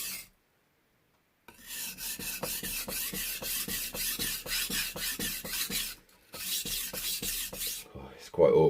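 A steel blade rasps in steady back-and-forth strokes across a higher-grit Japanese whetstone, close and fairly loud, with a brief pause near the middle.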